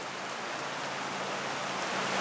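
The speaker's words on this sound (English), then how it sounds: "Here comes the rain again." Steady rain falling hard outdoors, a dense even hiss of drops on surfaces, continuous and close with no voices.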